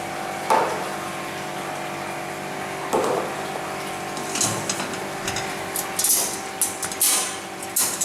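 Water runs and splashes steadily inside a Fabdec milk tank washer doing cold water rinses, with a pump humming beneath, interrupted by occasional clunks and sloshing surges.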